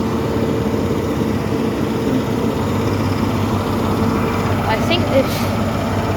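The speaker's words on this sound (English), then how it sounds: "HST is departing now, in fact, unless it's just starting his engine" The diesel engine of HST power car 43122 at Plymouth station, starting up for departure. It gives a steady low idling rumble throughout, with someone talking over it nearby.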